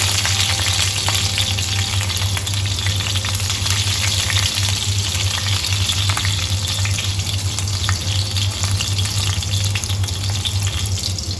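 Curry leaves and chillies hit hot oil for an Agri-style crab curry and make a loud, dense, continuous sizzle, close up and steady throughout, with no talking.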